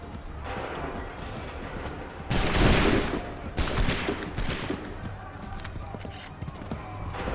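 Musket volley gunfire in the video game Assassin's Creed III: loud bursts of massed shots around the middle, a second volley shortly after, over battlefield noise with horse hooves and shouted voices throughout.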